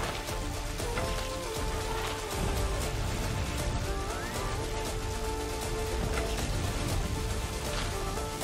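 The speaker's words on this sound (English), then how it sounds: "It's raining." Rain falls in the Rider's Republic video game as a steady, dense hiss that fills the whole stretch, blended with busy game effects and tonal music.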